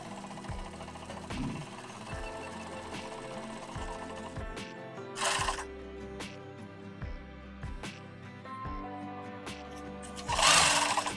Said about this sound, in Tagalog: yung bobbin winder mo, iikot na siya, magre-rewind na siya na sinulid.